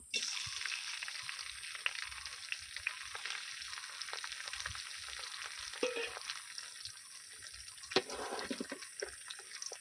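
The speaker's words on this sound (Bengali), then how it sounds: "দিয়ে দিচ্ছি সর্ষের তেল আর গরম হয়ে গেছে চিংড়ি মাছগুলো দিয়ে দেবো" Shrimp fry in hot mustard oil with a quiet, steady sizzle and scattered crackles and pops, plus one sharper spatter near the end.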